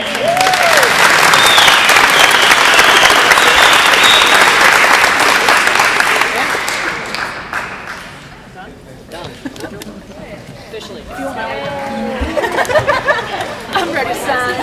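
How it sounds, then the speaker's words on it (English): Loud, sustained audience applause fills a hall at a Northern Kentucky University alumni weekend event, then fades into crowd chatter and scattered voices, with some applause returning near the end. "So one more round of applause for these guys."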